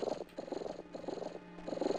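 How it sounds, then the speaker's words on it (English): A cat purrs steadily nearby in the video game Daggerfall, a soft rhythmic rumble pulsing in even waves with brief pauses. "I hear purring."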